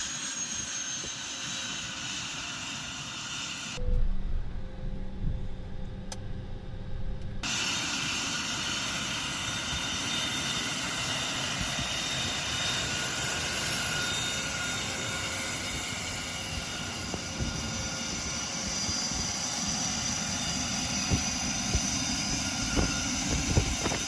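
A Falcon 900 three-engine private jet taxiing, heard from the cockpit as a continuous broadband engine whine and rush, with a brief muffled dip early on before the steady drone resumes.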